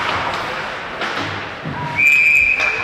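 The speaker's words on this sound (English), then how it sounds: "we get a whistle" A referee's whistle at a junior varsity hockey game, a sustained shrill tone near the end over arena noise and faint thuds on the ice.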